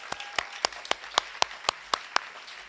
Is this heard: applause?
yes